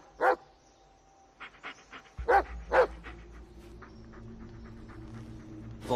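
A dog in the video game Blair Witch gives several sharp barks, spaced a second or two apart, some close together, over a low hum and soft background noise.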